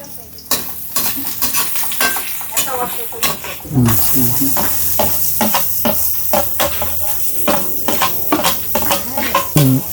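Onion and garlic sautéing in a hot pan, a steady loud sizzle that surges as the ingredients go in, with frequent spoon scrapes and stirring clatter throughout; a little speech is heard now and then.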